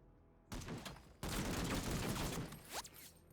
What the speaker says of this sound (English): Taking a lot of fire.